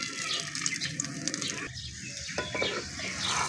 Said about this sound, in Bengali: একটু চেপে চেপে ভাজতে হবে পরোটাটা